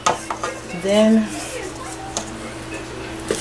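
Cornbread batter is stirred in a bowl with scraping, clinking strokes from a utensil, close and under a person speaking.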